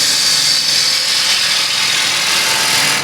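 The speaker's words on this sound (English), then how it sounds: "Once I'm in the wood, I open the gouge slightly" A bowl gouge cuts cross-grain wood on a spinning lathe, giving a steady, loud, broadband hiss of continuous shaving that holds without a break and with no voices.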